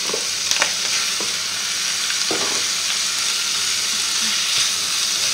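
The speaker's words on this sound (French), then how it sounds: "Là, on ajoute nos lardons fumés." Smoked bacon lardons frying in a pan, a steady loud sizzle and crackle with a few sharper pops throughout, close by and without speech.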